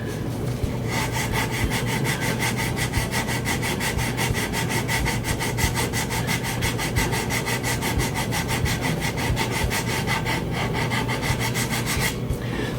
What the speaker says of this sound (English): I used the sander for all of this